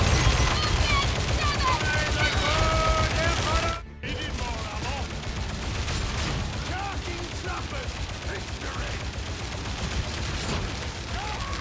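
Rapid automatic laser gunfire from the Accatran Mk VIIA in the Warhammer 40k Darktide game, a dense, loud, continuous fusillade with a brief gap near four seconds.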